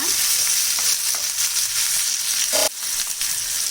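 Tomatoes and green chillies sizzle and fry steadily in a pan for a Matar Paneer dish, a dense continuous hiss with stirring scrapes and a brief dip near the end.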